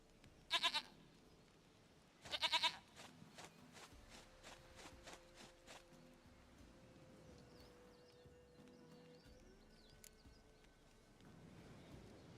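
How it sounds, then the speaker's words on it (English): A goat in The Witcher game bleats in two loud, close bursts, followed by fainter stepping and quiet background ambience with no talk. "Goat of mine, dearest, sweetest goat."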